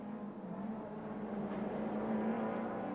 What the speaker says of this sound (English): Marco Dos Santos is on a charge and fighting it out with Farouk Dangor in the AA Super Bowl